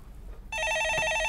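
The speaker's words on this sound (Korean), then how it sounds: "네, 전화 받아보겠습니다." A telephone on a Korean stock-market call-in show starts ringing partway through, a loud, steady electronic ring that holds to the end with no talk over it.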